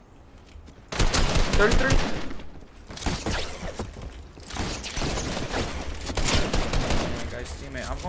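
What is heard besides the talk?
gunfire spraying at an enemy in Fortnite, a video game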